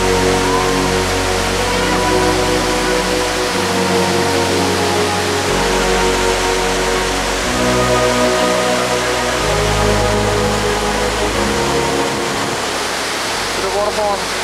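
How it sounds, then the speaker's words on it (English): A waterfall in Vietnam roars as a steady, dense wash of rushing water. It stays loud and unbroken throughout, with low wind rumble on the microphone. "I think we're getting close to the waterfall."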